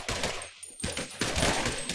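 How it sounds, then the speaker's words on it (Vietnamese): Soldiers in GTA 5 fire on zombies, producing dense, continuous bursts of rapid gunfire with a short lull midway, loud and close throughout. "Đó, bắn ngồi bắn đứng đồ các kiểu luôn các bạn thấy không, rất là chuyên nghiệp luôn nha."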